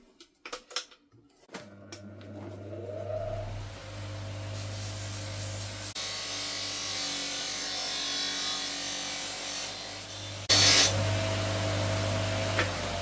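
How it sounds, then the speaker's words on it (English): Copper pan being polished during restoration, a steady rubbing whir with a constant low motor hum, starting after a few faint knocks and growing louder and brighter in the last seconds. "I have to keep polishing, stopping, checking, finding where the areas that need more."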